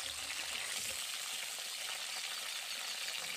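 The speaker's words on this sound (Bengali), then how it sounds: "প্রথমে আমি ফুলকপিটা ভেজে নেব, তাই ফুলকপিটাকে আমি দিয়ে দিয়েছি" Cauliflower frying in white cooking oil in a wok, a loud, steady hiss and crackle of sizzling close by with faint stirring movement, no voices.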